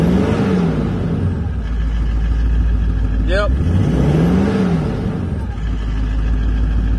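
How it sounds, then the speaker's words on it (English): Vehicle exhaust with a 3-inch pipe into 4-inch and a muffler, idling loud and close and then given a short rev that rises and falls before settling back to idle, with a brief spoken word. "this is the torque 3-inch into 4 with muffler at idle. Gonna give that a bit of a rev."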